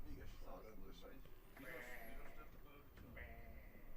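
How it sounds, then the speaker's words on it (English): Sheep bleat in short, wavering cries beside the Red Bull Ring race track in the Austrian Alps, fairly faint against a busy outdoor background. "the local racing sheeps are also watching the races."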